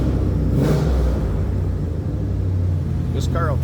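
A 2001 Chevrolet Camaro SS T-Top coupe with a V8 idles, a steady deep rumble loud and close, with a brief voice near the end.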